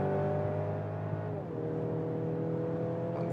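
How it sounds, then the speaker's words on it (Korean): A Mercedes-AMG GLC 300 coupe with AMG Line trim accelerates on a highway, heard from inside. The engine drones steadily, with a brief shift in pitch partway through, over road and tire noise. "한 번 더 가속해 볼게요."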